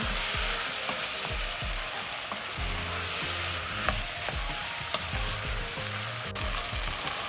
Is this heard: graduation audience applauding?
no